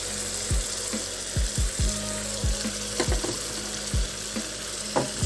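Potato and eggplant pieces frying in a pan, a steady close sizzle broken by repeated scraping stirs and clattering knocks of a utensil against the pan, with no voices.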